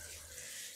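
Water pours in a steady, hissing rush as a bathroom is rinsed down, a continuous splashing wash with no break.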